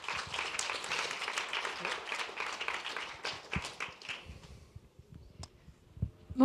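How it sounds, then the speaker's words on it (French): Audience applause at a FameLab 2014 science-talk competition in Lille: a dense, steady crowd clapping that fills the room for about four seconds, then thins out to scattered claps and fades. "Je vous demande d'applaudir Maud Lallemand."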